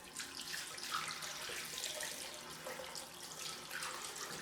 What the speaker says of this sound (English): Time for the cold rinse.